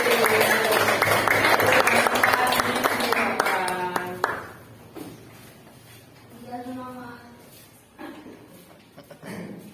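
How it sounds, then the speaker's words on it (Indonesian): Loud applause from a classroom group fills the first few seconds, then fades into quieter room noise and brief talk. "tepuk tangan yang paling meriah"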